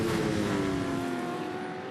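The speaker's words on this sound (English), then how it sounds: "You see the flames coming out the exhaust, backfiring." Touring race car engine during a race at Winton, a loud sustained engine drone fading slightly as it moves away, with the rough crackle of backfiring through the exhaust.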